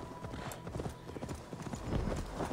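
Horse hooves clip-clop in a steady trotting rhythm in Assassin's Creed Valhalla, loud and close, with a faint whinny and no talk over them.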